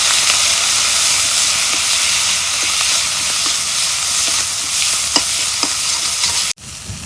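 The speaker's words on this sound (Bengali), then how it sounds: "মশলাগুলো ভালো করে কষে নিই।" Spices frying hard in oil for a country-chicken egg curry, a loud continuous sizzle and hiss with a few faint stirring clicks, cutting off abruptly near the end.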